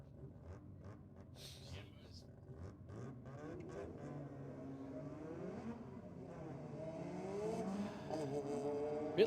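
At a Sydney drag-racing meet, a BMW M3 and a Mazda RX-7 FD launch: engines rev and climb in rising sweeps, building louder toward the end, under a commentator's steady talk.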